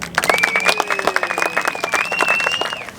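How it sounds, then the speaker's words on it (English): A crowd applauds a solar team with scattered, uneven hand claps, close and moderately loud, while a sustained high whistle-like tone glides over the top for most of the stretch. "Round of applause."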